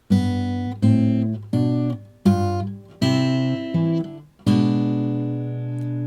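Acoustic guitar plucks a flowing fingerpicked run, bass notes alternating with higher strings in a steady rhythm, ending on a ringing chord.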